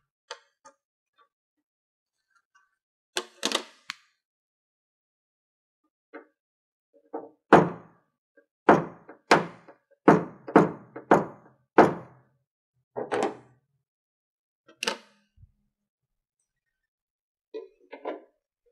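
A dent repair knockdown tool taps down high spots on a car panel: sharp, sparse metallic taps, first a few scattered, then a quick run of about a dozen firm knocks, tapering to isolated taps with quiet between.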